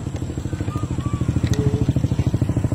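A motorcycle with an open exhaust pipe idles and revs nearby, its loud, rapid, evenly spaced exhaust pulses thumping steadily throughout, with faint street noise behind.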